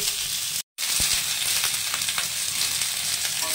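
Potato, eggplant and flat-bean pieces sizzle steadily in hot oil in a pan for a fish curry, a dense continuous frying hiss with a brief dropout near the start and no talking.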